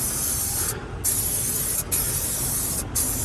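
Colorant sprayed in light dusting passes over a repaired leather seat in an Infiniti QX60, a steady close airbrush-like hiss that breaks off briefly three times between bursts.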